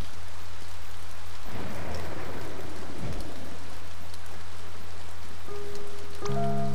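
Steady video game rain hisses throughout, with a heavier rushing swell midway and a few brief tonal chimes near the end.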